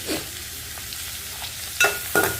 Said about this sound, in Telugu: తాలింపులో మినపప్పు వేయడం మర్చిపోయాను, మినపప్పు కూడా వేసేస్తున్నాను